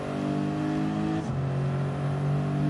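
Race car engine in the Gran Turismo video game droning loudly and steadily, its pitch dropping partway through as the throttle is released and the car coasts.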